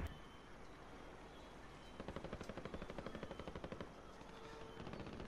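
Automatic gunfire in Call of Duty Warzone, a fast burst of repeated shots rattling for about two seconds in the middle, moderately close amid steady game ambience.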